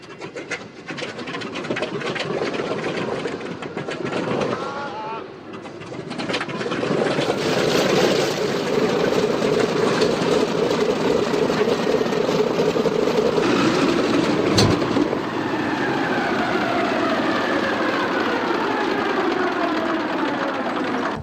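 A restored Douglas DC-6 propeller airliner runs its engines on the ground by a hangar, one propeller having a problem. The loud, continuous roaring drone swells after a few seconds and holds steady with a buzzing throb.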